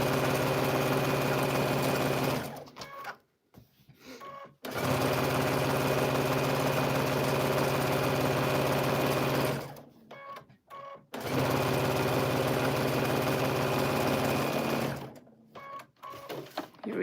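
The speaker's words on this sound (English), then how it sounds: "Let's run this one through." A sewing machine stitching a seam on fabric runs in three long steady bursts of whirring, separated by short pauses with light handling sounds.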